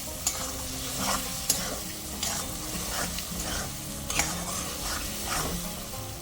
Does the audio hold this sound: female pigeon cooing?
no